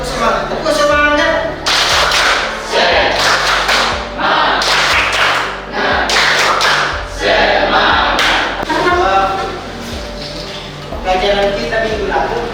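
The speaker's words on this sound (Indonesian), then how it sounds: "Seperti biasa kita tepuk semangat." A classroom of students doing the 'tepuk semangat' rhythmic clapping chant, sharp patterned claps in bursts alternating with shouted chanting voices, loud and close.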